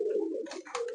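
A single pigeon in a loft gives one brief, low coo, close and clear.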